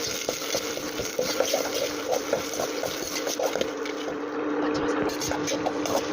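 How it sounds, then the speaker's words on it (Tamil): Turkey berries (sundakkai) being sautéed in a pan, a soft continuous frying hiss with light irregular stirring clicks and scrapes, moderately quiet with no voices. "போட்டு ஒரு வதக்க போகிறோம்."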